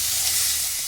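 Masala sizzling and frying in a pan while being cooked for an onion flower curry, a brief steady hiss close up with no talking.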